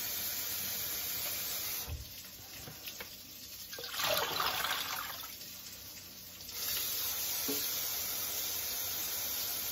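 Tap water runs into a cooking pot with a steady rushing splash that swells louder midway through and then settles back, close by, with no talking.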